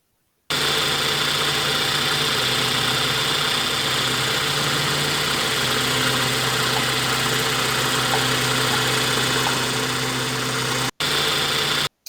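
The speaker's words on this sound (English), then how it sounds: "the whining noise that comes from your power steering pump" A bus engine runs steadily with a moaning, whining power steering pump, a continuous droning hum with a tonal whine layered over it, close and unbroken apart from a brief cut near the end.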